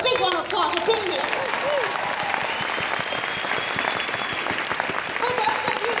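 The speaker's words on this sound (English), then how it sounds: "Give yourself a big round of applause for being here." Audience at a Jeunesse ONE convention giving a big round of applause, a loud continuous clapping swell with a few shouts and voices mixed in.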